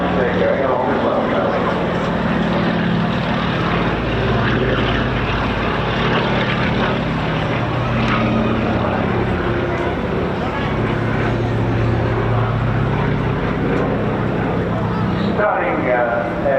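Wingwalker biplane making a final flypast at the Bournemouth Air Festival 2024, its steady propeller drone filling the air continuously under a commentator's voice over the loudspeakers.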